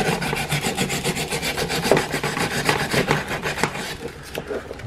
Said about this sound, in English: just take sandpaper